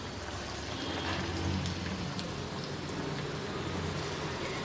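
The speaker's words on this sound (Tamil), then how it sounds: "இப்போ நம்ம ஒவ்வொரு பால்ஸாக போட்டு பொரிச்சு எடுத்துடலாம்" Maggi noodle cheese balls fry in hot oil, giving a steady, dense crackling hiss that runs unbroken throughout with no voices.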